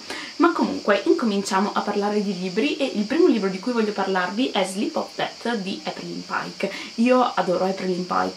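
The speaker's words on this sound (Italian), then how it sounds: "E sentite le cicale invece da quest'altra parte, fuori dalla finestra, che canticchiano." Cicadas buzz steadily outside a window on a summer day, a constant high hiss heard through the room under continuous close talk.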